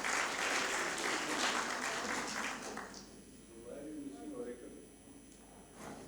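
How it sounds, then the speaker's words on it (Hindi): Audience at a Rajasthan DigiFest session applauding the NIC team, dense clapping for about three seconds that fades out, followed by someone speaking. "पूरी हमारी NIC की टीम भी है तो उनके लिए भी तालियां हो।"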